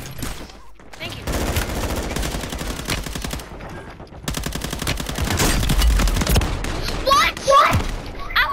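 Rapid bursts of video game gunfire crackle and rattle in a shootout, with machine-gun volleys and single shots coming in waves while young voices talk over the action.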